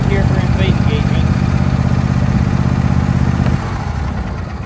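A John Deere E120 lawn tractor engine runs loudly with a steady rumbling idle, then drops in level near the end; a voice speaks over it.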